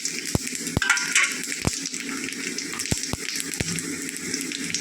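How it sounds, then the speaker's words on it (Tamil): Cinnamon, fennel, bay leaf, star anise and cloves crackle in hot oil for a tempering, a steady sizzle broken by several sharp pops and clicks, close and without voices. "கிராம்பு எல்லாத்தையும் போட்டு தாளிச்சிடுவோம்."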